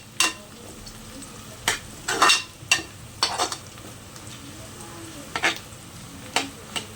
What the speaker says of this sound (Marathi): तर त्याच्यामध्ये ना आता आपण हे लसूण घालूया आणि आहे ना मिक्स करून घेऊया।